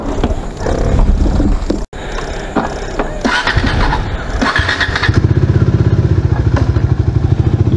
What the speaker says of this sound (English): I don't want to start my bike inside my home because the sound will disturb the people